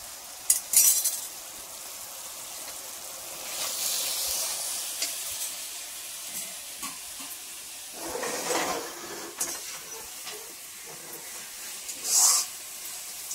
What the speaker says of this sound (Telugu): ఇప్పుడు ఇది వేయించుకున్నాను కదా, కిస్మిస్ పొడి, జీడిపప్పు